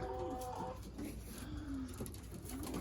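Racing pigeons coo softly at a loft after a 643 km race, low throaty calls repeating in a faint, steady backdrop with a little ambient noise.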